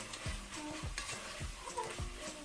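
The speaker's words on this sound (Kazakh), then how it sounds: "Турап дайындап қойған пиязымызды салып қуырамыз." Chopped onions frying in a pan with the stirring of cooked meat, a steady soft sizzle broken by regular scraping stir strokes about every half second, close and fairly quiet.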